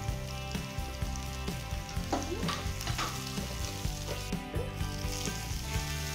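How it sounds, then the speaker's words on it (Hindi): Roasted peanuts, finely chopped garlic and onion fry in hot oil for a village-style chutney, giving a steady, close sizzle with soft crackles and occasional stirring, no talk. "सभी चीजों को तेल के अंदर अच्छे से फ्राई होने देंगे।"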